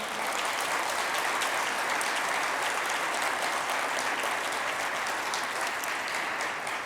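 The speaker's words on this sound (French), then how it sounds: "Oui, on peut applaudir." Sustained, dense applause from a large audience at a formal accounting Fellows gala, an even wash of clapping heard from a distance that holds steady throughout.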